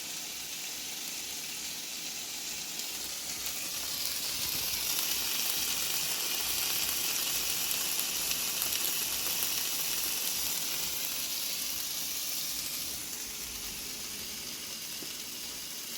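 A seasoned boneless ribeye steak sears in a hot pan with a steady, dense sizzle that swells slightly and then holds, close and continuous with no talking.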